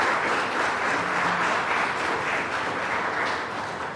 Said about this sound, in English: We could show her appreciation with a round of applause once again for her deliberations